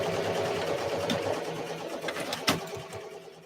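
A Ricoma MT 1501 embroidery machine stitches with a fast, steady mechanical whirr and rhythmic needle chatter, close by and continuous, with a sharper clack near the end.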